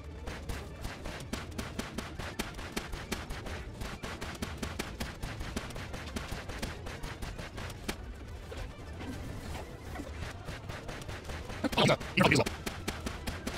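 Relaxaurus firing its Rocket Volley attack in a video game: a rapid, continuous stream of small popping shots, moderately loud, with a heavier burst of blasts near the end.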